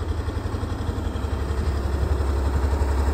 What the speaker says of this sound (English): But I see he's got the tractor going.